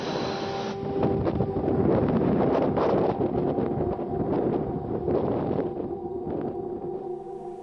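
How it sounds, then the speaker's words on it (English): Wind blows outside the Red Lion at Avebury, a steady rushing roar with microphone buffeting, loud and continuous throughout, with low rumbling beneath and no talking. "the wind outside is blowing"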